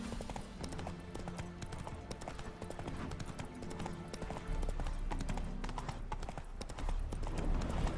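Steady clip-clop of hooves from Roach, the horse in The Witcher 3 video game, a continuous brisk rhythm beneath low game ambience throughout.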